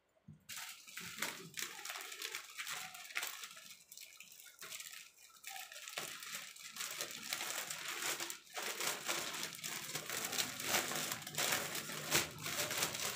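A bag holding a pillowcase crinkles and crackles as it is handled, a busy, close rustling that grows denser and louder toward the end.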